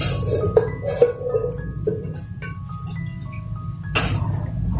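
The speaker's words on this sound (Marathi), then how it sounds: "आता ही कढई ठेवलेली आहे" A metal kadai is set down on a home kitchen stove while cooking potato filling for samosas, giving a few close, sharp clinks and scrapes with a lingering metallic ring, spaced irregularly over a low steady background hum.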